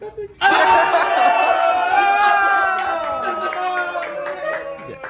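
A crowd at a poker table bursts into cheering and clapping, a sudden loud whoop that stays up and slowly fades, with laughter and voices mixed in.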